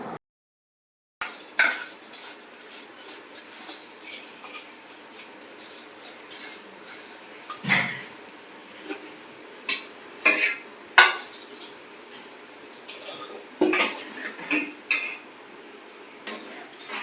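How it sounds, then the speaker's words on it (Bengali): Rice goes into a pot of boiling water for pulao, with soft clinks and scrapes of a metal utensil against the pot over a faint, steady bubbling hiss, the sharper taps coming now and then. "তো এখন এটা দিয়ে দেওয়া হচ্ছে চালটা।"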